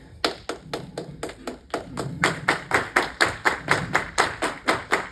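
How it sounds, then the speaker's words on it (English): A group claps a simple steady rhythm together, sharp, evenly spaced claps getting fuller and louder partway through, with no talking. "we're going to start working on clapping rhythms, real simple stuff"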